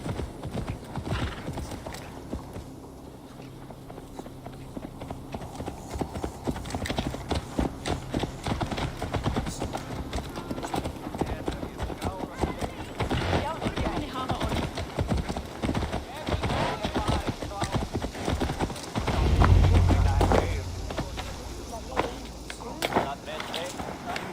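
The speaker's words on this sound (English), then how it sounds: "Let's return the horse." Horse hooves clip-clop steadily in Assassin's Creed Valhalla, a continuous close trotting rhythm with a neigh near the end, under game ambience and occasional character voices.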